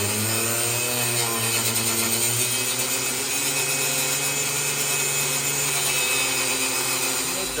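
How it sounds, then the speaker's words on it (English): A cutoff wheel grinds steadily through bolts on an old 1957 car being stripped down, a loud continuous whining rasp with a shifting pitch, close up and without pause. "let's cut some bolts, see how this goes."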